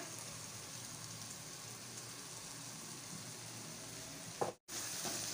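Spice masala frying with tomatoes in a pan, a faint, steady sizzle and crackle that runs evenly, then briefly cuts out near the end before resuming.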